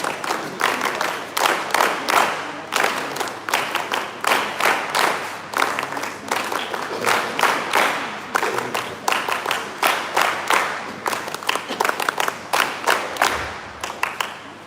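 Rhythmic group clapping in unison by NSS volunteers at a university ceremony, loud, even beats in repeated bursts that run throughout with short pauses between sets.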